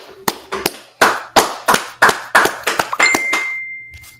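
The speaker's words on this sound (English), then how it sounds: "All right, let's clap it up." A group claps together in a slow, sharp rhythm, about a dozen loud, crisp beats spaced roughly a third of a second apart, at a gathering of the Israelite School of Universal Practical Knowledge, with a faint tone lingering near the end.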